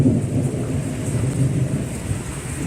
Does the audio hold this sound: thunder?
yes